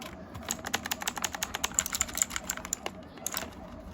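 Rapid typing on a Leaven K550 87-key mechanical keyboard gives a close, crisp run of clicky keystrokes at an irregular, quick rhythm, with a short pause near the end.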